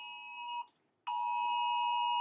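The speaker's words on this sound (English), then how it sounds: "I had an Amber alert on my phone" An Amber alert tone blares from a phone, a loud, steady, piercing electronic tone that cuts out briefly after about half a second and then resumes, sustained and close, with no one talking.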